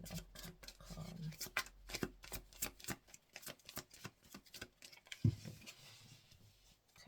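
Tarot cards being shuffled by hand in a quiet room: rapid riffling and flicking bursts in quick succession, faint and close, with a soft thump near the end and no talk.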